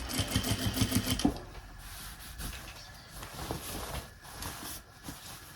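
Sewing machine stitching a curve in woven fabric, a short rapid mechanical whir at the start, then quieter intermittent clicks and handling noises close by.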